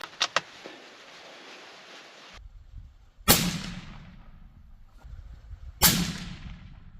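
Two suppressed gunshots fired at a target, each a sharp loud crack with a short decaying tail, spaced a few seconds apart, with faint handling noises before them and no talking.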